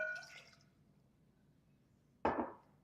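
A cup of water lands in a bowl of cake mix as one short, fairly loud splash near the end, after a near-silent pause that follows a brief bit of voice at the start.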